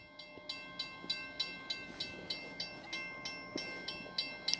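A freight train with a Ferromax locomotive passing, its wheels giving a steady rhythmic clatter of regular clicks, about two per second, over a constant hum, moderately close with no talk.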